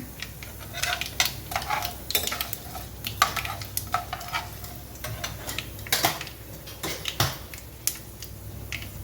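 Asafoetida hits hot oil already tempered with chana dal, mustard seeds and cumin, giving a crackling sizzle with spoon stirring and clinks against the pan, scattered sharp pops over a steady frying hiss.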